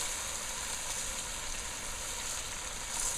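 Parboiled brown rice dropped into tomato paste frying with salty seasoning gives a steady, even sizzle that holds at the same level the whole time, with no talking.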